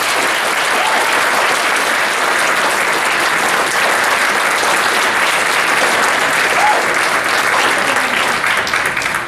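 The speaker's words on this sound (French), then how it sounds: "une grande main d'applaudissements. Bravo!" Steady, dense applause fills the room after a joint community band concert in Charlesbourg, a loud crowd clapping continuously and evenly for the whole stretch without a pause.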